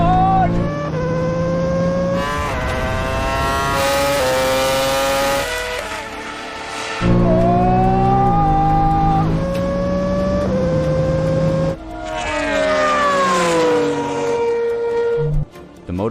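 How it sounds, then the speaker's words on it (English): A MotoGP bike, a Formula One car and a 1,400hp Porsche launch hard from a standing start, loud engines revving and shifting up through gears close by, with a brief drop in noise mid-run before the roar resumes. "The MotoGP bike launches like it's been fired from a cannon. The Formula One car hooks up instantly and chases hard."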